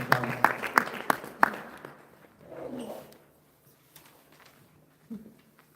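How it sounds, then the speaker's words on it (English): A small audience at a community session on family and sexual violence in the Wellington region gives a short burst of a few distinct handclaps. The clapping fades quickly, and a voice speaks briefly afterward. "Let's clap for Phil."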